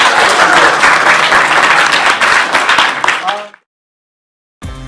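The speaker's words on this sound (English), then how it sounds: "And applause for our guest speakers too." Loud crowd applause for guest speakers at a community gathering, thick continuous clapping that fades out and stops abruptly, followed by a brief silence.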